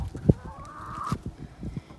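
Chickens and a rooster in a backyard flock give short clucks and one drawn-out call, close by and fairly quiet over light background noise.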